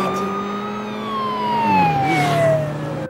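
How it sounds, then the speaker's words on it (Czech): A close, loud emergency-vehicle siren wails steadily with a long sweeping tone that slowly falls in pitch, swelling briefly before cutting off, with no one talking. "Znělo to jako siréna a bylo to dost blízko."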